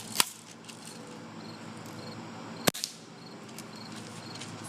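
A 760 Pumpmaster air rifle fires a single shot at 3 pumps, a sharp, close crack midway. An earlier click comes before it, and faint insect chirps sound in the background.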